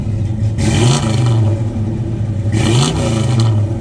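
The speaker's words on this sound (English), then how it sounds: "Rev it up a little, Charlie." A restored 1967 Chevrolet Chevelle's 355 V8 engine revs loudly and close by, rising twice in strong bursts over a steady deep idle rumble, with no one speaking.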